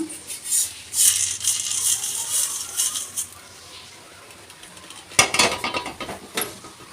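A small portion of an ingredient for a ragi porridge is moved into a dish, with light metal utensil clinks and rattles, a quieter gap, then a burst of scraping and tapping.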